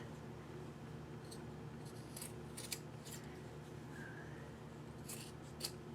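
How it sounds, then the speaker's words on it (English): Scissors snip through fabric strips during sewing, a few faint, brief cuts in a quiet room with steady low background hum. "And now I'm just going to trim these like this."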